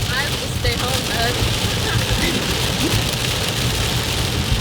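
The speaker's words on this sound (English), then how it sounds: "The rain can be harder than this." Heavy rain drums steadily on a car during a driving lesson in Toronto, a dense continuous hiss with the low rumble of the moving car beneath it throughout.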